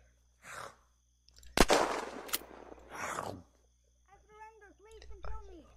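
Sharp gunshots from the video game Unturned crack out in a brief cluster, mixed with people talking over a game soundtrack.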